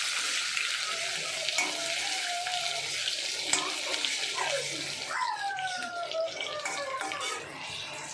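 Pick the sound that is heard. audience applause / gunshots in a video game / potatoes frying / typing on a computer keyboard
potatoes frying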